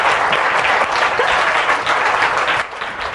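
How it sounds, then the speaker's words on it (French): An audience at an evangelical gospel program applauds loudly, a dense, continuous wash of many hands clapping together at close range, with no voices standing out. "On applaudit très fort."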